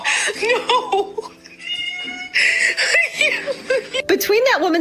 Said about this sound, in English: that cat agreeing with her meowing